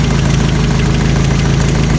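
Engine of a 1985 Toyota pickup truck running steadily, a loud, close, low rumbling drone with a fine rapid pulse and no talk.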